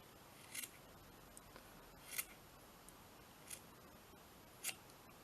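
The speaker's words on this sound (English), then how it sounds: "let's just cut a little bit of this off." Scissors snip through craft material in four separate quiet cuts, spaced about a second apart, with near silence between them.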